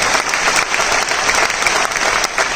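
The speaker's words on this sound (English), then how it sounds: "Please clap for them." An audience claps continuously at a song launch event, dense and loud applause filling the whole moment with no break.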